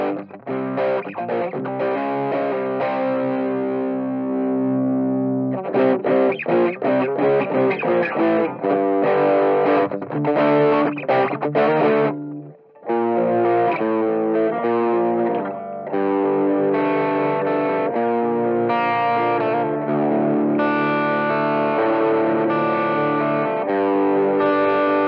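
An electric guitar driven through an Eastrock ODRIVE-II overdrive pedal plays loud, sustained distorted chords and riffs, stopping briefly about halfway before resuming with no talking.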